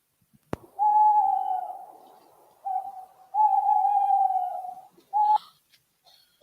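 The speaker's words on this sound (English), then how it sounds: "What was that? Oh, only an owl." An owl hoots in long, steady tones, four separate calls of varying length after a sharp knock, clear and alone against silence in a school staging of Macbeth.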